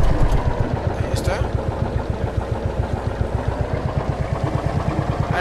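A tractor engine in the video game Farm Mechanic 2015 chugs loudly with a steady rapid rhythmic thump, close and continuous, while someone talks over it.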